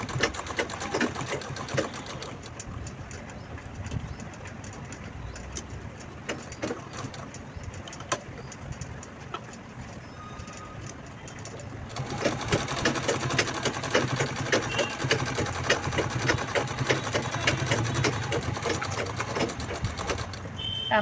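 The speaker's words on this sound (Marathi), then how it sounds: "एकदम सावकाश हळूवार कडेकडेने" A sewing machine runs steadily, slowly stitching lace along the edge of a velvet bag, its whirring motor and rapid needle clatter continuous and close, growing slightly louder partway through.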